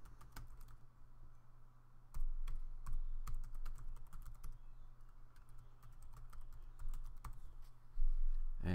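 An email address is typed on a computer keyboard in quick, irregular bursts of soft clicking keystrokes, close and fairly quiet, with brief pauses between runs.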